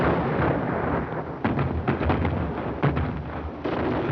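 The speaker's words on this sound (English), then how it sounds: "The colonel's kind of early with his gunfire." Artillery gunfire from a 1941 film rumbles as a steady, dense roar with repeated heavy bursts around the middle, continuous and fairly loud with no talk over it.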